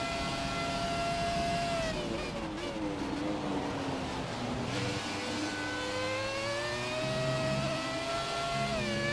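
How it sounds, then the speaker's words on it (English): A high-pitched Renault Formula 1 racing engine in the F1 2017 video game whines continuously, its pitch dipping on gear shifts and climbing again as it revs hard, loud and close, with no voices. "just listen to this engine noise"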